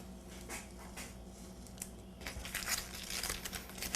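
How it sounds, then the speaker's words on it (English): An X-Acto knife trims plastic film around a glass tabletop: close, soft crinkling and scraping that grows busier and louder toward the end, with no talking. "You can use an X-Acto knife, anything you want for this. I'm just going to take this and trim it around."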